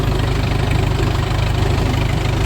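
A tractor engine runs steadily in a farm field during fertilizer spreading, a loud, continuous low rumble with an even, throbbing chug and no breaks.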